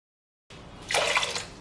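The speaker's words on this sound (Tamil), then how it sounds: "இதில் வந்து ஒன்றரை கப் தண்ணி அல்லாட்டிக்கு முந்நூற்றி எழுபத்தஞ்சு மில்லி லிட்டர் தண்ணி சேர்க்க போகிறேன்" About 375 ml of water is poured into a grinder jar while preparing a ground-spice fish curry. The pour is a short, close splashing rush after a quiet start, with no talking.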